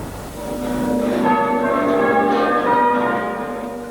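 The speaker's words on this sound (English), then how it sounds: "bells to celebrate a long life" Church bells ring in a village to mark the Queen Mother's funeral, a rich, sustained peal of overlapping tolls that swell and linger, heard clearly and fairly close with no talking.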